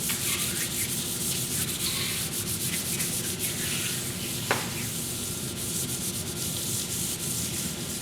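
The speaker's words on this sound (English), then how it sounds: "Just take some 400 grit. Give her a nice light little sand." Light hand sanding with 400 grit sandpaper to clear rust from the cast-iron top of a SawStop table saw, a steady close rubbing hiss running the whole time with one brief knock near the middle.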